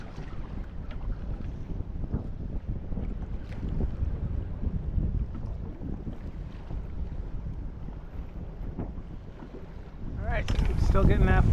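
Strong wind buffets the microphone and chops the water during kayak fishing off Panama, a steady loud roar with a harder gust near the end; someone speaks over it.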